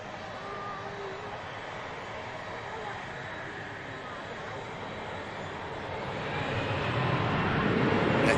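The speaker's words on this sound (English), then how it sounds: "this aircraft heading down to the Canary Islands" Steady, broad jet engine roar of an aircraft lining up on the runway at Manchester Airport, bound for Tenerife South, holding at a constant level before swelling louder near the end, heard from a distance with no talking.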